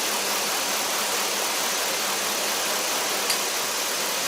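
A car engine idles steadily with cylinders 3 and 7 unplugged to cause multiple misfires, a continuous broadband running sound at close range, with no talking.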